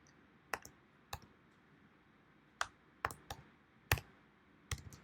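Sharp, isolated computer mouse clicks, about nine spaced irregularly over a few seconds, close and crisp against a quiet background.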